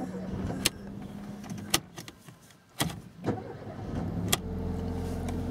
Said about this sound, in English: just turn on the car.